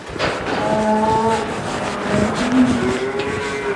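Korean Hanwoo cattle and calves mooing inside a barn, several overlapping drawn-out moos from different animals at moderate distance over a steady indoor background hum.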